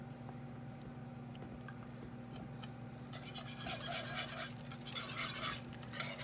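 A whisk beats egg into an Italian egg drop soup, giving faint, quick clinking and stirring strokes over a low, steady kitchen hum.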